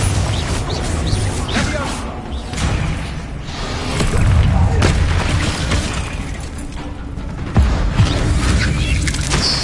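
Confringo spell blasts in Hogwarts Legacy, loud booming bursts with whooshes and crashing debris over a busy game soundscape, with a voice speaking in places.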